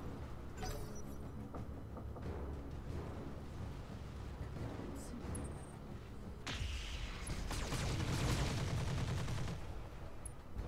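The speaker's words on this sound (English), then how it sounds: "Oh yes, autocannon hits." Autocannon fire and impacts in RogueTech, a BattleTech-based video game, come as bursts of sharp cracks over a constant rumbling battle din, swelling into a heavier, louder barrage toward the end, with no talking.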